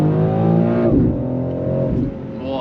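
A BMW X4 M Competition SUV accelerating at full throttle on an open road, its engine note loud and steady from the cabin, rising in pitch before shifting gears twice with brief dips.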